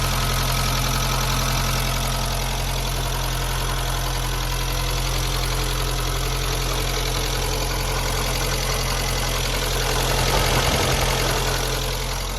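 An engine idles steadily and loudly nearby, a constant low rumble with a slight swell in revving near the end.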